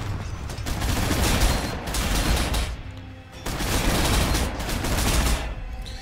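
Artillery fire in the Warhammer 40,000 Sanctus Reach video game, a dense, continuous barrage of rumbling blasts and rattling bursts that swells, dips briefly, then rises again.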